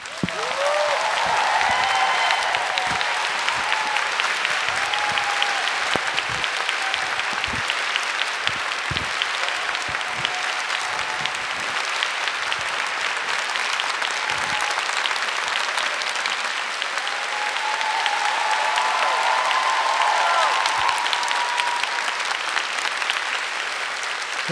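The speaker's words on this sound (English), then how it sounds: "please give her a fantastic applause, the one and only Marina Abramovic" Long, sustained audience applause at a public lecture in Kyiv as Marina Abramovic is welcomed, a dense steady roar of many hands with occasional whoops rising above it.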